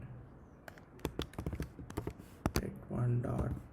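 Python code typed on a computer keyboard makes scattered crisp keystroke taps, fairly close and quick, followed by a person talking over the last moments.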